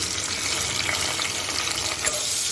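Sliced onions frying in oil and ghee in a pan give a steady, close hiss of sizzling with faint stirring scrapes and no talk.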